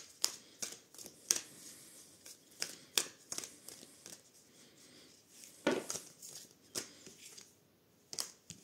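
An oracle card deck, the Sagesse de l'Oracle, is shuffled by hand, giving repeated quick papery riffles and slaps in an irregular rhythm, close and fairly clear against a quiet room.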